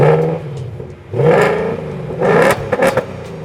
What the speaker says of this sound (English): press the unlock and lock button within 3 seconds of each other, and it revs your car's engine